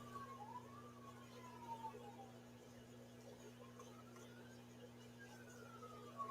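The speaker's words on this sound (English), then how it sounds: "I hear sirens." Emergency vehicle sirens, fire apparatus responding at night, wail faintly from a distance in rising and falling sweeps over a steady low hum.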